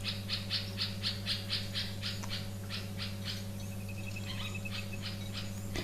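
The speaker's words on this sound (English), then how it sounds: "I have got a dark cap bulbul at my bird bath making lots of noise." Dark-capped bulbul calling at a bird bath: a faint string of rapid, repeated chirping notes over a steady low hum, with a thin higher trill near the end.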